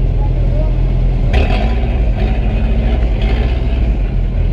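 An angkot minibus engine idling and creeping in a traffic jam, a loud, steady low rumble that fills the whole stretch with slight revving swells.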